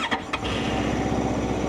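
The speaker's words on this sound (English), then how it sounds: "Let's listen to the engine, shall we?" A CFMOTO motorcycle engine, a 675SR-R or 700MT, starts with a couple of brief cranking bursts and then settles into a steady, fairly quiet idle close by.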